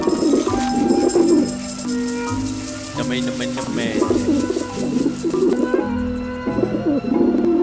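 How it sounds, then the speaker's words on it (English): Pigeons coo softly in the game Grim Fandango, their low burbling calls repeating over a busy background with a voice talking alongside. "What else do pigeons eat?"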